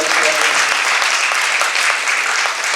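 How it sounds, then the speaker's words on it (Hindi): Loud, sustained applause from a large audience at a golden jubilee celebration of a Dominican religious sisters' congregation, dense steady clapping filling the whole stretch with no pause. "आइए जोरदार तालियां बजाने के लिए।"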